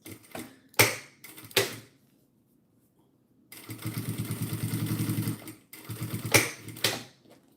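Sewing machine top stitching scrap fabric at a longer stitch length: short clattering bursts, then a sustained, steady, close rhythmic whirring run, ending in a few more clicks and a brief final run.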